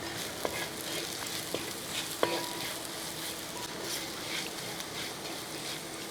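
Steady sizzling of spices frying in a pan for Kerala-style beef fry, with a few soft scrapes and taps as they are stirred; no talking.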